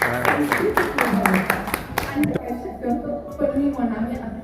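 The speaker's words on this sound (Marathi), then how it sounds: "टाळ्या टाळ्या करा एकदा" A group of seniors on a picnic outing claps together, a dense run of sharp hand claps through the first two seconds, then thinning, with talking over it.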